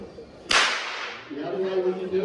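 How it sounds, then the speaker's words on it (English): A single sharp, loud whip crack over a horse's head at a wildlife park, followed by a fading rush and then a steady tonal hum. "We crack it over the horse's head like this."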